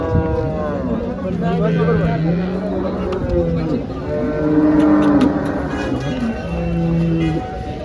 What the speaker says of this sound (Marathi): इकडे पण काही गायी आहेत, 4-5 गायी.